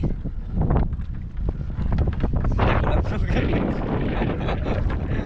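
Strong wind buffets a fishing boat out on the water, a steady broadband roar of gusts with loud rumbling on the microphone that continues throughout.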